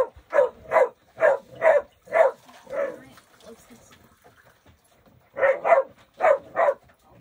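A dog barks in a steady series of sharp, close barks, pausing briefly before another burst of barking.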